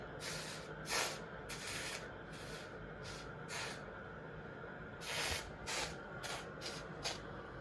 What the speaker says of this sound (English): Obviously you can see it fizzing and creating these bubbles and the texture as I'm applying it.